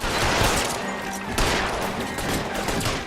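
Gunfire fills an L.A. Noire shootout, with rapid overlapping shots cracking in a loud, continuous volley over a noisy background, with no voices heard.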